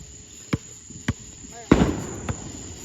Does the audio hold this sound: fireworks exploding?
yes